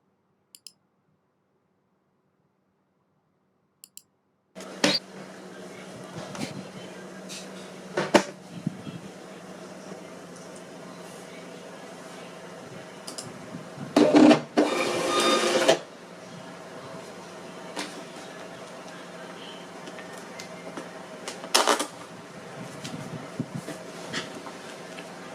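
An Xprinter XP-420B label printer starts a steady mechanical hum broken by scattered clicks, then produces a louder, rasping feed burst in the middle and another sharp burst near the end.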